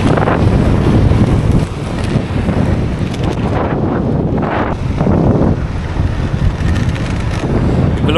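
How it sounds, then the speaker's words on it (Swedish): Strong wind gusting hard against the microphone, a loud, continuous roar with buffeting and shifting rushes, heard alone from start to finish. "blåser olagligt mycket."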